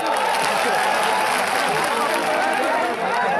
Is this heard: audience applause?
yes